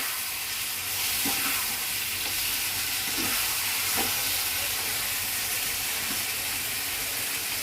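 Mustard and green chilli paste sizzles in a pan while being stirred, making a steady, even frying hiss with a few soft scrapes of the spoon along the pan.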